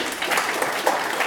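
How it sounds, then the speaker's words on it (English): Audience applause at a DevOps conference talk, a steady wash of clapping from a crowd that holds evenly for just over a second. "Next, applause."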